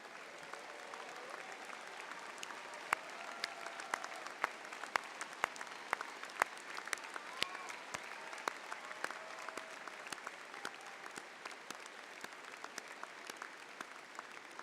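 An audience at a 2019 Clarkson University undergraduate commencement gives sustained applause for graduates' mothers and grandmothers, a faint, distant, steady patter of many hands with occasional sharper claps standing out.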